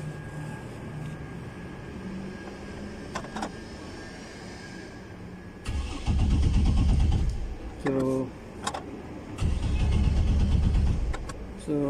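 A 2009 Chevrolet TrailBlazer with a suspected grounded fuel pump cranks in two loud, churning bursts without catching. Quieter shop background and a voice come before the cranking.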